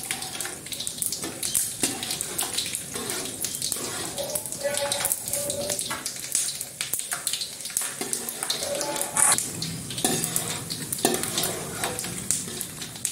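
Peanuts roasting in a hot pan while being stirred, with repeated scraping, rattling and dry sizzling in irregular bursts throughout, close and fairly loud.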